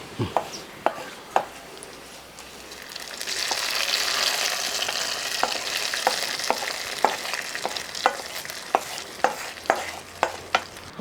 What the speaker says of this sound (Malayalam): ഈ താളിച്ച സാധനം എല്ലാം കൂടെ അങ്ങോട്ട് ഇട്ട് കൊടുക്കാം